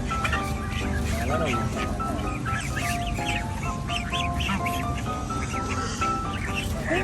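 Geese honk and squawk repeatedly in a noisy flock nearby as they are being fed at a mini zoo, with people talking over the birds throughout.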